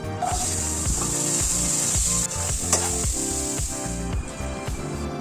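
Vegetables sizzle and fry steadily in hot oil in a pan for a Bengali shukto curry, a continuous loud hiss punctuated by scrapes and stirring knocks of a spatula.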